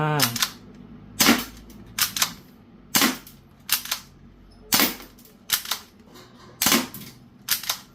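Repeated sharp pops from a cheap budget air gun fired at a paper target, about nine shots at a steady, slightly uneven pace roughly one per second, loud and close.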